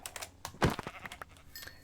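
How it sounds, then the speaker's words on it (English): Sheep in the Minecraft video game bleat in a short burst, a clear, fairly loud call near the middle, set among soft clicking game sounds and quiet ambience with no talking. "let's try to aim a little bit better at the various sheep"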